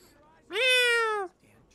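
A cat meows once in Final Fantasy VII Remake, a single clear, rising-then-falling call lasting under a second, loud and close against a quiet background.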